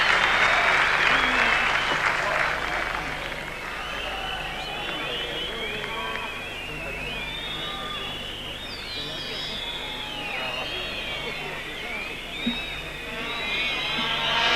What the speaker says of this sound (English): getting a great round of applause